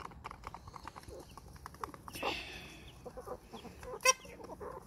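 Young chicks chirp in a farm coop, with scattered faint peeps and shuffling, then one sharper, louder chirp near the end, with no one speaking.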